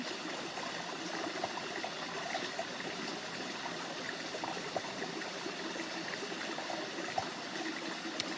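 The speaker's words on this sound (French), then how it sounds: "au bord de cette rivière." A river stream flows gently and continuously, a soft, even babble of trickling water heard alone at a modest distance.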